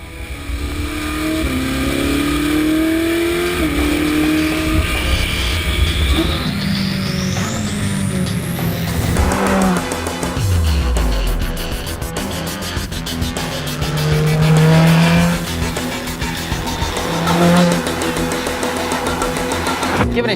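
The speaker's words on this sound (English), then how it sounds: "the noise from the engine can be a bit overwhelming" A Ferrari 458 Speciale's engine revs loudly as it accelerates up through the gears, with rising and falling pitch sweeps, shifts and tire noise, close and continuous with no talking.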